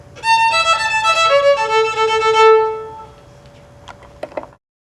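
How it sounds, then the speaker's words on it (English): A solo violin melody rises and glides through a few bright, sustained notes, then fades, leaving faint quiet clicks. "This is the violin. It is the highest pitched string instrument."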